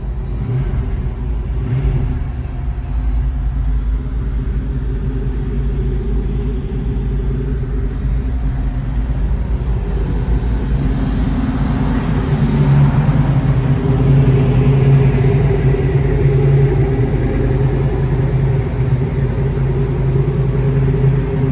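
A 1985 Toyota Land Cruiser engine rumbles deeply and steadily through a tuned, throaty exhaust, idling low then building into a louder rev partway through, close and continuous.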